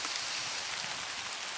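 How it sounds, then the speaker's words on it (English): Outdoor rain falls in a steady, dense hiss of drops, continuous and even throughout with no voices. "I'm standing out here in the rain."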